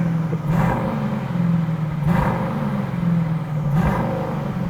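An Aston Martin DBX 707 with its new exhaust system fires up and revs, giving a steady engine drone with three brief swells of revving, heard alone.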